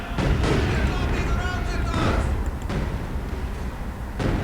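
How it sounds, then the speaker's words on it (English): Artillery counter-bombardment in the Company of Heroes video game rumbles as dense, overlapping booms and blasts, loud and continuous, under a commentator's talk. "doing a little counter-bombardment"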